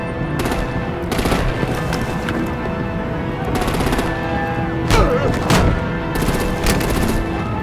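Gunfire from vehicles in Batman: The Enemy Within, clustered machine-gun bursts rattling out in several loud volleys with gaps between, over a busy rumbling background and some talk.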